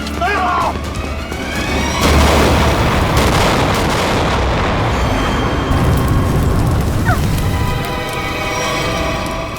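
A dramatic grenade blast at a petrol pump in a TV crime drama scene, a loud booming burst with a long rumbling roar and debris, followed by a second sharp crack near the end.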